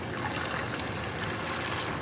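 Water is poured steadily into a pot of frijoles de la olla, a continuous close splashing gush with no pauses over its whole length.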